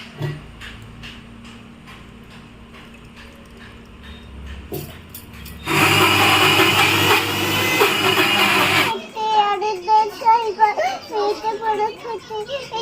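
A loud, steady mixer grinder whirs for about three seconds grinding soaked rice and dal into idli batter, broadband and harsh, then cuts off; children's voices and household chatter surround it before and after.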